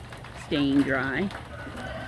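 Farm chickens out in freezing cold rain give a brief run of clucks and calls, close and moderately loud, with a person speaking briefly nearby.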